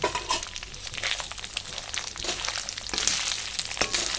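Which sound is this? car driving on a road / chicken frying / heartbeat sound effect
chicken frying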